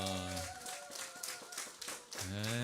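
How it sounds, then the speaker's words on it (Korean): During a Sunday church worship service, clapping bursts out between held musical tones, a quick run of claps from a small congregation. "박수 주세요."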